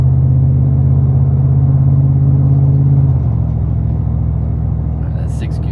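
A Ford Coyote V8 with a muffler delete cruises in fifth gear, a steady, loud low exhaust drone that shifts pitch slightly partway through as the revs settle, heard up close from inside the car with no talking.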